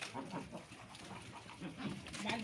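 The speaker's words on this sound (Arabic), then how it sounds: "ده البط البغال." Mule ducks on a rooftop give faint, soft quacks and low clucking calls, quiet and close, over a light background hiss.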